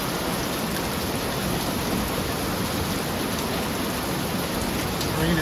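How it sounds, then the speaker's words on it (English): Heavy rain hammers a metal tin roof on an uninsulated shed during a big storm, a dense, loud, unbroken roar with no pauses or voices. "Makes a lot of noise on my metal roof, that's for sure."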